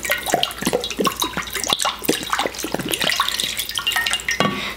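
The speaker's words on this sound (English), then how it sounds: "I will take away the business card and all the water will fall out." Water spills and splashes from a cup as a business card is pulled away in a science-magic demonstration, a messy run of drips and splatters that patter unevenly and fairly close, with no talk.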